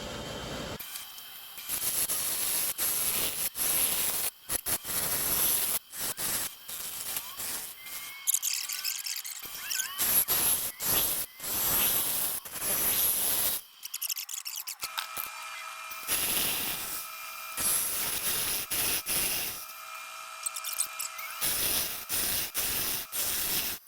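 A lathe tool cuts the inside of a turned wooden bowl, giving repeated scraping and rasping passes with a high hiss, broken by short gaps between cuts, close and fairly loud.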